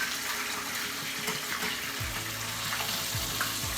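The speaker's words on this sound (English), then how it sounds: "my fish is finished to lightly fry, so I'm just going to remove it" Fish lightly frying in oil in a pot makes a steady bubbling hiss, joined partway through by a few low clunks and scraping sounds from the pot, close and moderate in level.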